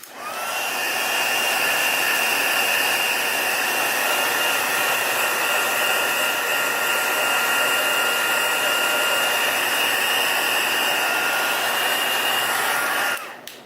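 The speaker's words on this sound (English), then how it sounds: "I just want to take my heat tool and heat set it just a little bit just to cement that glitter into that glue" Craft heat tool blowing hot air to heat-set glitter into glue, a loud steady whirring blast with a whiny tone that runs unbroken for about thirteen seconds before switching off.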